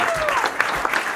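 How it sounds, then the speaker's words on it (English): A short round of applause, a dense burst of clapping with a voice faintly audible underneath. "Give her a round of applause"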